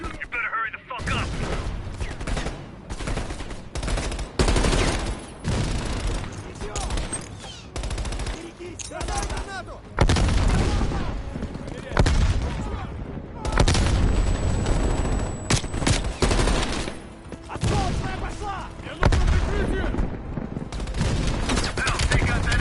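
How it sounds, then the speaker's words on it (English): Heavy machine gun fire fills a Black Ops Cold War campaign battle, with sustained loud bursts, booming impacts and battle noise throughout, and voices talking over the din. "Heavy MG on the ridge."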